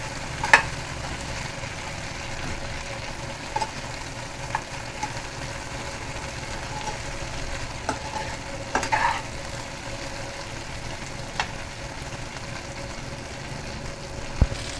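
Brinjal fries in oil with a constant low sizzle and crackle, steady and even throughout, marked by a few faint clicks and taps; no talking.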